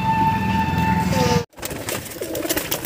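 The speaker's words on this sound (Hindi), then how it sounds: "ये तीनों कबूतर हैं, सही साट हैं" Pigeons coo softly at close range in a low, rolling murmur over a steady background hum, then, after a brief dropout, continue under rustling, shuffling noise.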